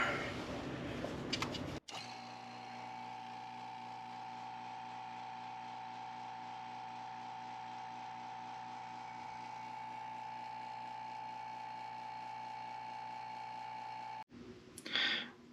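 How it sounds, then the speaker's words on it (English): A vacuum pump drones steadily with a mechanical rattle while degassing resin-covered wood under a tempered glass lid during custom ring making, starting abruptly after a brief noisy moment and cutting off near the end. "we go ahead and put our tempered glass lid on here, and then we'll start up the vacuum"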